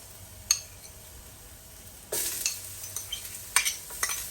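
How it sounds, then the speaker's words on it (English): Minced garlic and ginger hit softened onion in a soup pot for sweet potato soup. After a lone clink, a sudden sizzle starts, broken by scraping stirs and utensil knocks, close and fairly loud. "After the onion has become soft, you add garlic minced, 2 tablespoons of ginger"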